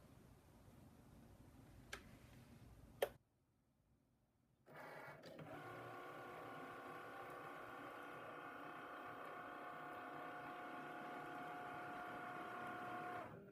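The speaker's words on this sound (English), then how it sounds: "Cricut is drawing my seam allowance." A Cricut Maker cutting machine draws a seam allowance with a fabric pen on canvas, starting with a few clicks, then falling quiet before its motor hums steadily with a faint mechanical whine.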